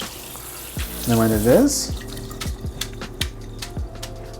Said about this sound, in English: Feeling on the underside to make sure that the water that's coming through is cold.